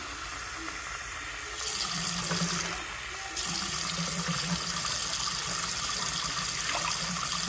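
Cold water runs steadily from a tap, a continuous loud splashing gush filling a vessel for making grits, with slight shifts in tone.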